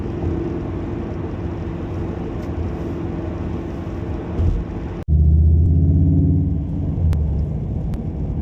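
A 2020 Volkswagen Golf R hot hatch with its engine running, a steady low exhaust rumble that cuts off sharply partway through, then returns as a louder, deeper drone.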